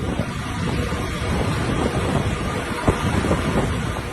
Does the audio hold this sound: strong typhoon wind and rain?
yes